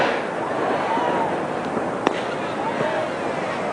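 Fireworks going off on bonfire night: distant whistling rockets rising and one sharp bang over a steady wash of background crackle and noise, heard alone without talk.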